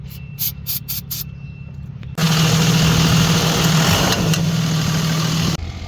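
An old diesel engine idles loudly and steadily up close after a brief quieter stretch of faint intermittent clicks, with a constant low drone and no talk.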